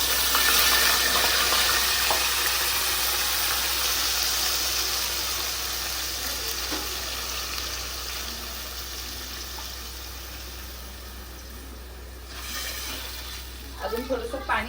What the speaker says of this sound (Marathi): अजून थोडस पाणी ऍड करू.